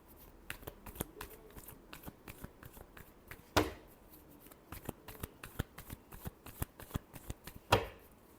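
Tarot cards are shuffled by hand in quick, crisp riffles and flicks with a few sharper slaps, close and quiet with no talk.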